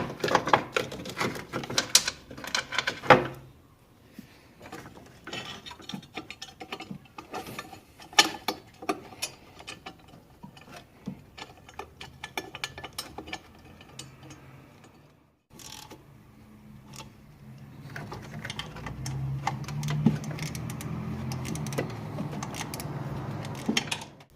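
Bolts go into a valve cover bracket on a 2003-2006 Kia Sorento engine: a run of close ratchet clicks and metallic taps, pausing and resuming, with steady mechanical handling noise and no talking.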